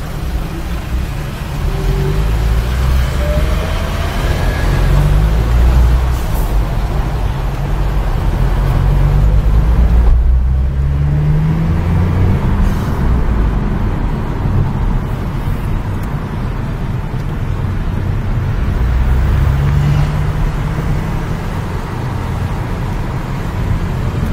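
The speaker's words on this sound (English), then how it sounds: "Always traffic in London." Steady London road traffic near Hyde Park, with cars and buses rumbling and accelerating close by in a continuous loud wash of engine and tyre noise, no voices over it.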